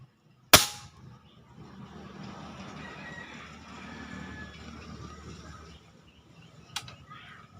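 A homemade airgun built from PVC and epoxy with a muzzle brake fires one sharp, loud crack near the start, then a faint mechanical hum and rattle follow, ending in a smaller click.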